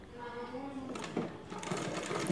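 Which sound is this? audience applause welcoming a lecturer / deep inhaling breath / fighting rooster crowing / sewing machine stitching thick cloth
sewing machine stitching thick cloth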